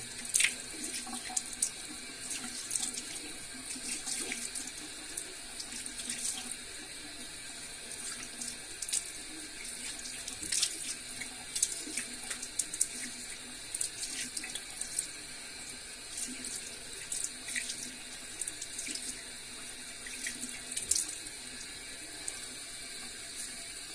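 Tap water runs steadily into a sink while a face is washed after a wet shave with a Wilkinson Sword Classic safety razor, brush and soap, a continuous close splashing hiss with small bursts of drips and splashes throughout.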